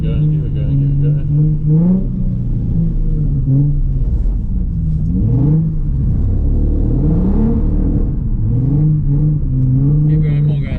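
A Nissan 350Z drifting on a track has a loud engine that surges and revs repeatedly, heard close from inside the car under ongoing coaching talk.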